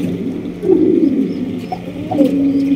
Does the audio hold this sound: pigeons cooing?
yes